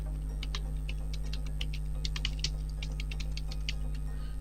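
Typing on a computer keyboard while writing a biography document in Microsoft Word, with steady clusters of close, crisp key clicks and occasional Enter presses over a constant low electrical hum.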